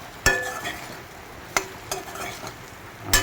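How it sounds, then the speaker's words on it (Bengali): Food frying in a little oil in a pan, a soft steady sizzle broken by a few sharp clacks of stirring, close and alone. "ফ্রাই করব, কিন্তু লক্ষ্য রাখবেন যে তাকে এটার নিচে না লাগে"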